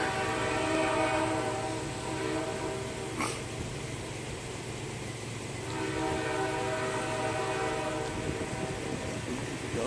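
A train sounds its multi-tone horn near a railroad crossover off the main track, a loud sustained blast that fades briefly and returns, with the rumble of rail cars beneath.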